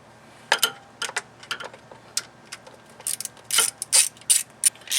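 A hand ratchet clicks in short bursts while snugging 10 mm bolts on the timing belt cover of a Honda Accord with a 2.2L or 2.3L F22/F23 engine, close and crisp, with pauses between strokes.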